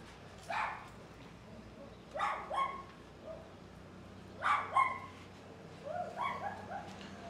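Puppy barking in Baja, Mexico: several short yips and barks in small clusters, a little distant, over faint background noise.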